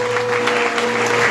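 Church congregation applauding together for a woman being honoured at a Sunday service, steady dense clapping filling the room with a faint sustained tone beneath.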